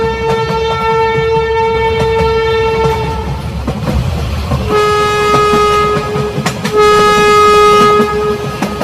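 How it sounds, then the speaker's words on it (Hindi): A cartoon train arrives at a railway station, sounding a long steady horn blast, then a second blast after a short rumble, over rolling wheel noise and rhythmic clicking of the cars, loud and close. "तभी इन लोगों को ट्रेन की आवाज सुनाई देती है"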